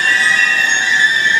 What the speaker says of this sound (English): This train is the Wakashio.